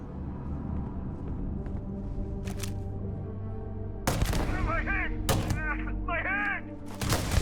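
Gunfire in the game Starfield, several sharp loud gunshots cracking out at intervals over a steady rumbling background hum, with warbling electronic chirps between the later shots and a few voices in the scene.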